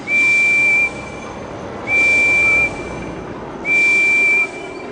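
Henry the engine from a Thomas & Friends video game blows three loud, clear steam-whistle toots of about a second each, evenly spaced over a soft background hiss.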